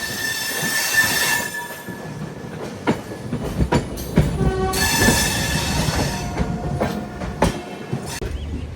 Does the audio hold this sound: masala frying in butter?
no